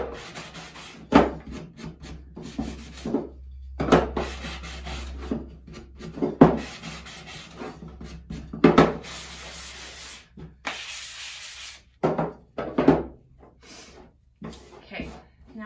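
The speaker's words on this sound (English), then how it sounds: "I am going to sand the edges just a tiny bit." Sandpaper rubs against the edges of a wooden craft block in short, repeated scratchy strokes, close and fairly soft, with pauses between bursts and breathing audible.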